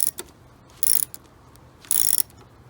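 Alternator belt being tightened on a Mercedes W124 300E, with several short bursts of ratchet clicking in quick rhythmic runs, close up with quiet pauses between them.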